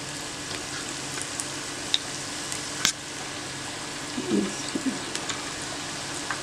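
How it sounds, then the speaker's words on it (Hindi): Pakoras dropped into hot oil fry with a faint, steady sizzling hiss, marked by a few sharp pops and a soft bubbling flurry near the end. "चूल्हा आहिस्ता करके फिर पकोड़े इसमें डालने हैं"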